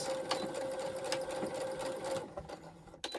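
A sewing machine stitches fabric in a rapid, steady mechanical whir that runs for about two seconds, then slows and stops with a few soft clicks and handling noises close by.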